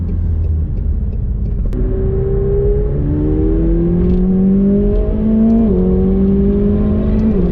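Engine of a 2019 McLaren 720S pulls hard toward 7,000 RPM, a loud continuous rumble whose tone climbs steadily across several seconds with a short dip mid-run, captured from the cabin without speech.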